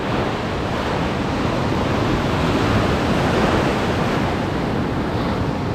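Ocean surf breaking on a beach at Montauk, a loud, continuous wash of churning white water with wind buffeting the microphone throughout.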